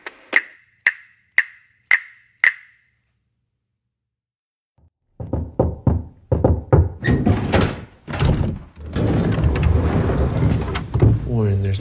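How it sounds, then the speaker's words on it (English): Four sharp knocks on a door, close and evenly spaced, then a pause before a single faint tap, followed by people talking over movement and background noise. "there's no secret knock"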